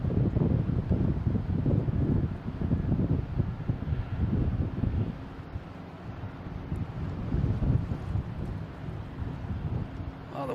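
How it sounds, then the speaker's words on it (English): Strong wind gusting across an open airfield at Boston Logan International Airport, buffeting the microphone in loud, rough surges that ease briefly midway before rising again, with no talking. "Oh, the wind is kicking up."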